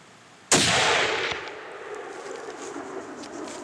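A single loud rifle gunshot cracks outdoors during an Alaska Dall sheep and moose hunt, followed by a long fading echo rolling across the landscape.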